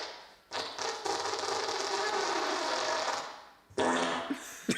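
A long fart sound from a novelty fart sounds album runs loud and sputtering for nearly three seconds, followed after a short gap by a second burst, close and dry with no talk.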